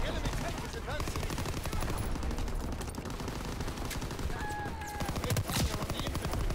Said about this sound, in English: They're firing on the infantry.